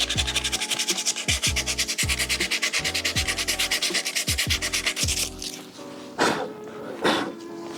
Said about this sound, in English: Then you can take some sandpaper and sand it smooth.